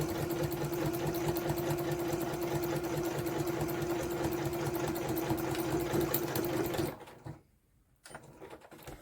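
A sewing machine stitches scrap fabric for a garden apron, running at a steady fast hum close by, then stops abruptly and leaves a brief near-silence.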